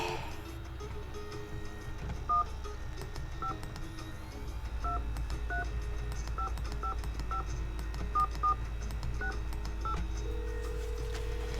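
Telephone keypad tones in the Nancy Drew video game Secret of the Scarlet Hand, a sequence of distinct beeps in quick, uneven rhythm as a number is dialed over a low hum.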